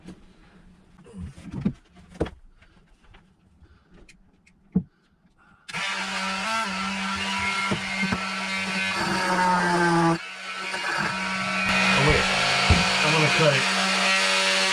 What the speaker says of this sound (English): I'm going to try to cut these bolts with it.